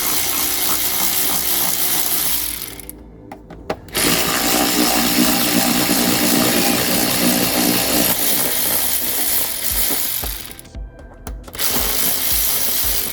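A power driver whirring loudly on the Phillips screws of the air filter box of a Vauxhall Cavalier MK2 carburettor, in two long continuous runs separated by short pauses.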